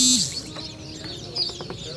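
Chicks and ducklings chirp and peep under a heat lamp, with a burst of high cheeping at the start, then softer scattered peeps and a faint steady hum nearby.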